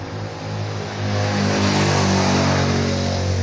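A motorcycle engine idles close by in a steady, throbbing drone, rising slightly in pitch and loudness partway through, with no speech.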